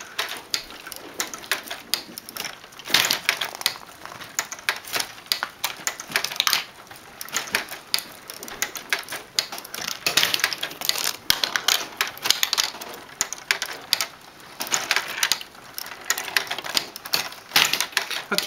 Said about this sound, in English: these marbles have magnets inside of them, and they're going up a conveyor belt of paper clips until it reaches a spinning wheel of magnets